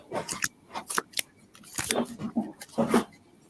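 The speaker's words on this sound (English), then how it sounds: "Are you shuffling through some of your Pokemon cards?" Pokemon cards being shuffled, bursts of crisp papery flicks and snaps in irregular clusters, close and fairly loud, with faint voice in the background.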